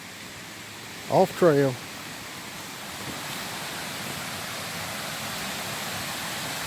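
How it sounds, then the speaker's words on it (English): Hillside stream running full after rain, a steady broadband rushing hiss of water that fills the whole stretch at moderate level, with a brief spoken remark early on. "I'm glad the water's running good."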